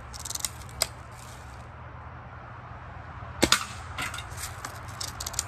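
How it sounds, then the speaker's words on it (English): A Daisy Model 1999 carbine BB gun fires a couple of sharp, quiet snaps, one near the start and a pair a few seconds later, over a low steady background. "Let's take a couple shots with the Daisy Model 1999 carbine"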